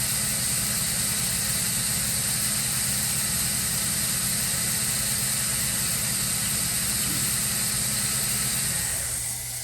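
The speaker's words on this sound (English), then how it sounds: "Spindle's currently at 2000 RPM." OMNITURN GT-75 Series II CNC gang lathe spindle spinning at 2000 RPM, a steady close whine with a constant low motor hum and bright high tones, unbroken until a slight drop at the very end.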